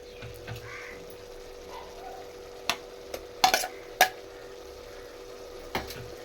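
Ginger garlic paste stirring and sizzling in a pan with turmeric for a mutton curry, a low steady fry under several sharp spoon scrapes and clinks against the pan.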